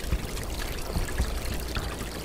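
Water in the video game Black Mesa flows and pours continuously at moderate loudness, a steady rushing trickle with no talking over it.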